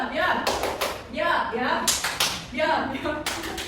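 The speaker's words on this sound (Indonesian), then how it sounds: "Sekarang coba ibu mau tepuk yo." A classroom of students claps a rhythm in short grouped bursts that repeat three or four times, with voices chanting along between and over the claps.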